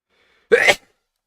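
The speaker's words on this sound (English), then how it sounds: "I gotta sneeze." A single sharp, close sneeze bursts out once and ends quickly, alone in the quiet.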